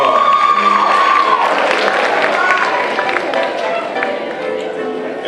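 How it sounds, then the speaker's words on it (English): A school crowd at a Towers High School Black History Program claps steadily and cheers for a performer. The loud, continuous applause carries whistles and whoops, with a whistle early on, and holds throughout. "Y'all give Mr. Kinsler a round of applause."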